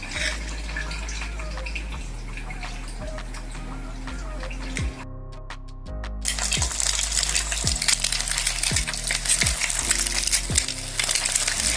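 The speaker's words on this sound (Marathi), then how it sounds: "शॅलो फ्राय करून घेऊ।" Boiled egg pieces shallow frying in oil on a tawa give a steady loud sizzle and crackle throughout, with a brief quieter break, then a louder hiss and a few soft taps of a utensil.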